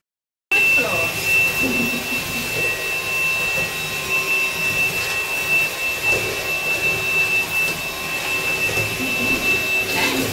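Morphy Richards SuperVac 2 in 1 vacuum cleaner running on carpet, a steady close motor whine with a sharp high tone, holding unbroken for about ten seconds after a brief silent start.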